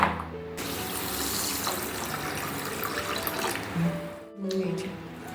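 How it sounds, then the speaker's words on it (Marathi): Water swishes and splashes continuously as rice is rinsed by hand in a bowl or sink, close up, with a few low clunks near the end. "सर्वप्रथम आपण हे तांदूळ आधी धुवून घ्यायचे आहेत"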